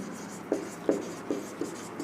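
Marker or chalk writing on a board during a physics lecture on mirrors, five short scratchy strokes spaced roughly evenly, close and fairly quiet over a steady room hiss.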